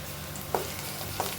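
Onion and ginger garlic paste fry in oil with a soft steady sizzle, broken by two light spoon taps against the pan, close and quiet.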